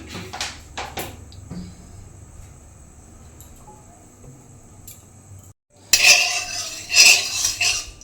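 A metal wok (kadai) is set on a home gas stove for cooking with mustard oil, giving a few clanks and scrapes. A quiet stretch follows, then louder bursts of metallic clattering near the end.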